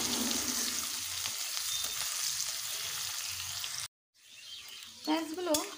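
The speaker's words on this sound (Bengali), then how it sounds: "পেঁয়াজগুলোকে লাল লাল করে ভেজে নেব" Onions sizzling in hot oil in a pan for a hotel-style egg curry, a steady dense frying hiss for several seconds that cuts out briefly, then returns with a few stirring sounds and a short voice.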